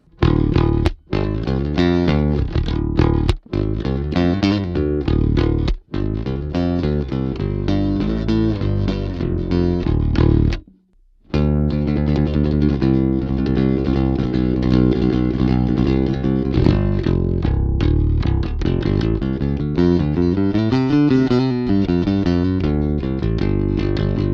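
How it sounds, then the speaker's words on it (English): A bass guitar with a Wal/Alembic-style filter preamp, resonant boost on the bridge pickup, plays a picked rock riff with a gritty, distorted tone, loud and continuous, with one short pause partway through. "I've enabled the resonant boost on the bridge pickup to give you some kind of real gritty picking tones"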